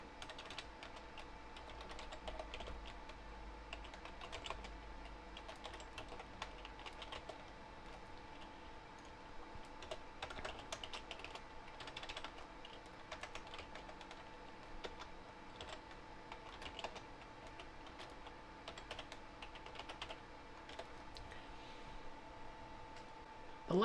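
A website URL typed on a computer keyboard, with rapid, irregular key clicks running steadily for over twenty seconds, quiet and close, with no talking.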